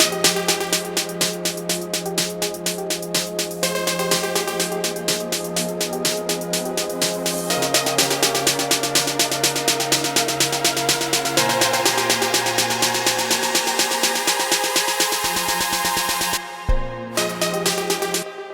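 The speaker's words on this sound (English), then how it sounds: "this kind of almost trappy snare" A trap-style snare rhythm drives a modern dance music buildup, its rapid, steady hits layered over sustained synths at a constant loud level, with a brief dropout and a short burst near the end.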